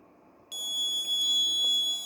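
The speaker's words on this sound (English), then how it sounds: "Alarm on." A vaccine pass card scanner at a door sets off a sharp, high-pitched continuous electronic alarm tone that starts abruptly and holds steadily and loudly to the end.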